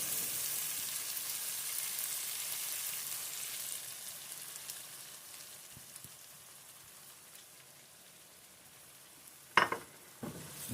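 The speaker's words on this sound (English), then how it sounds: "what we're going to do is we're going to trickle the eggs over it" Beaten eggs trickled over moisture-dried ground meat in a hot pan, a soft steady sizzle fading slowly, then a couple of sharp clinks of a utensil stirring near the end.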